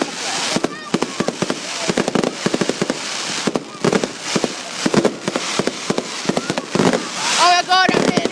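Fireworks in a video game crackle and pop in sharp rapid bursts throughout, with a whistling rise near the end and talk underneath.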